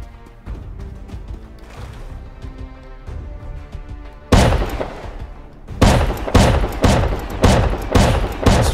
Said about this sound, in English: Whoa, that's a shotgun trap.